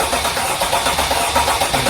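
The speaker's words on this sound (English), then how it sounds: "We have a mechanical problem with this engine. When it's cranking," Mercedes Sprinter van engine cranking with a misfire, a rough, continuous churning whir under the hood, close and fairly loud, with uneven pulses through the short stretch.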